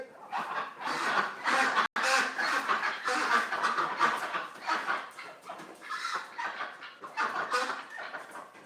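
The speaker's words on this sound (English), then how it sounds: "Ooh, we got ducks here, Dougie." Several ducks at a duck hospital quack and chatter continuously at close range, a busy overlapping flock of nasal calls with a brief dropout partway through.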